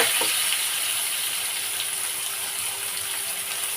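Tomatoes hit hot oil in a pan while cooking a potato and prawn dish, giving a bright, steady hiss of sizzling frying that stays loud and even throughout, with no talking over it.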